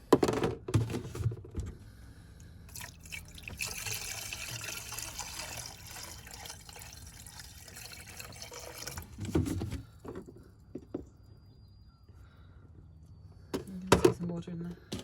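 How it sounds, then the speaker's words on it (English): Water poured into a car's cooling system, with a steady filling wash and gurgling as air escapes, up close and moderately loud, with a few bumps and brief talk. "Can hear air releasing as I pour that in."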